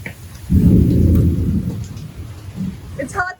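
Hail and a sudden 50-knot windstorm battering a boat at anchor: a loud, dense rush of pelting and roaring wind swells up after a quiet start, holds for over a second, then eases into choppier gusts with brief higher sounds at the end.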